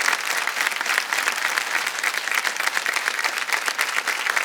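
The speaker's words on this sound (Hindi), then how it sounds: "तालियां बज जाएं इनके लिए जोरदार" A studio audience on a television quiz show breaks into vigorous, continuous applause for a contestant who has just won, the clapping bright, dense and unbroken.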